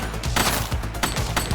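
Rapid gunfire in The Precinct police video game, a fast stream of close, loud shots that continues for the whole short burst.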